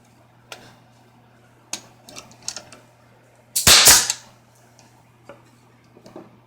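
A single sharp pneumatic crack from a Central Pneumatic 18-gauge 2-in-1 air nailer firing at 40 psi, close and loud, set among faint clicks and handling taps.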